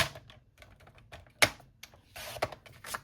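Cardstock being cut for card making with a paper trimmer, heard up close as quiet clicking taps and a couple of sharp slicing snaps, with no talking.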